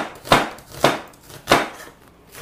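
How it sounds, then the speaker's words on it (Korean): An onion is sliced into strips with a knife on a cutting board, five distinct evenly spaced chopping thuds, close and clear with no talking. "양파는 채 썰면 돼요."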